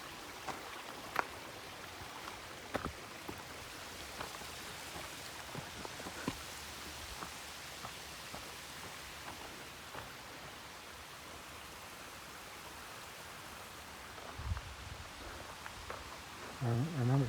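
A long river on the Baden Powell Trail flows steadily in a continuous broadband wash of water, with a few faint clicks and a brief low thump near the end.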